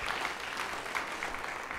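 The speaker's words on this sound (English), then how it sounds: "let's just give him a round of applause" Quiet, brief applause from a church congregation for a singer during a livestreamed service, soft steady clapping at some distance.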